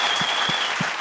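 Applause from a studio audience at a Kannada family comedy show after a dance performance: dense, steady clapping throughout at even loudness, with a few low thumps recurring underneath.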